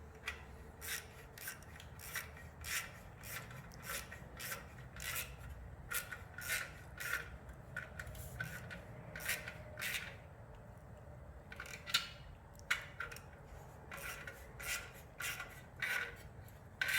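A 5 mm hex tool tightens bolts on a Triumph Street Scrambler motorcycle with a quick, rhythmic run of close ratcheting clicks and rasps. The clicks come in steady bursts with brief pauses between them.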